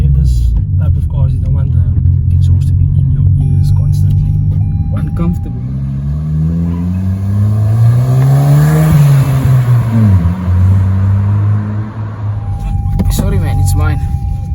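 A 2020 Toyota Corolla XS hatchback with an upgraded exhaust is revved: a steady idle drone climbs in a rising sweep to a peak, falls back, then settles again to idle, loud and close.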